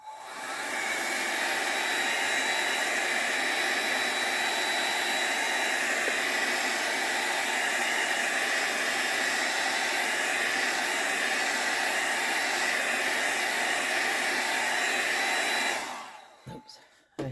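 An electric dryer blows steadily and loudly at close range to dry paint on a mixed media artwork, a constant whooshing hiss that runs for about sixteen seconds before cutting off, followed by a brief clunk.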